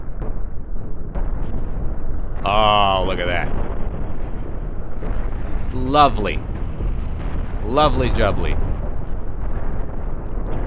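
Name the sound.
heavy cannons firing and exploding in Cosmoteer video game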